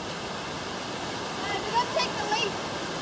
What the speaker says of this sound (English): Oh, look at that water coming down